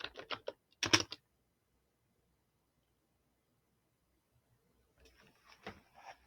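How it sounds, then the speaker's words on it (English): A search query typed on a keyboard: a short flurry of crisp key taps, a pause of near silence, then a softer second run of tapping, close and unaccompanied by talk. "let me type out Kultida"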